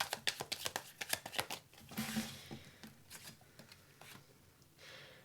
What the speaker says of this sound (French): Je vais d'abord mettre toutes les cartes sur la table.